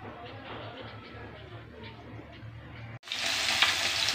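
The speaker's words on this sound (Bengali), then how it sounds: "মাছ ভাজার কাছে যাওয়া যাচ্ছে না," Large pabda fish dropped into hot oil in a pan, a quiet hum giving way to a sudden loud, steady sizzle and spatter partway through.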